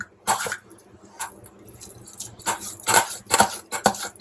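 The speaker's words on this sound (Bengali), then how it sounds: "এই দেখো এখানে তার মারা চলছে, গ্রেটারটা দিয়ে যেটা আমরা গ্রেট করি" A kitchen grater rasps in a run of short, irregular scraping strokes, some close and sharp, separated by brief quiet gaps.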